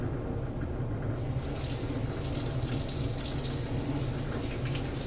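Tap water runs steadily into a bathroom sink during a face rinse after lathering with sandalwood shaving soap, a constant close splashing wash with no talk.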